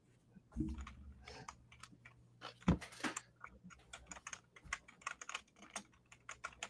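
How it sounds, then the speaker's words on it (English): Someone types an email address on a computer keyboard, a run of quick irregular key clicks near and clear, with a couple of heavier thumps and soft background noise, no talk. "I'm just typing in my email address."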